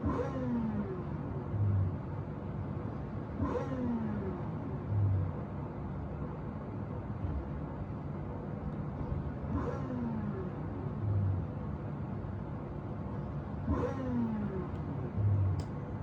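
A car driving in a Roblox emergency-services game, with a steady low engine rumble and whir that surges in repeated revs every few seconds, and no talking.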